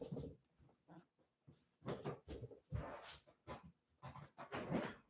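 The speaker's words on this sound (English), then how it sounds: "I got to see where this stupid dog is" A dog whimpers and gives short muffled yelps and grumbles in uneven bursts, fairly close and alone with no talking.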